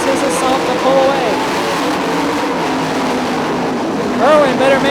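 Sprint cars race around the dirt oval at Ionia Raceway Park, engines droning steadily with a louder surge near the end, while an announcer calls the action over the roar.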